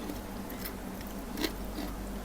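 Small crispy fried crabs in tamarind sauce are chewed close by, giving a few soft crunches over faint background noise, with no talk.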